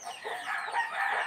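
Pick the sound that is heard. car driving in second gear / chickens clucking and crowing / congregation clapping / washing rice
chickens clucking and crowing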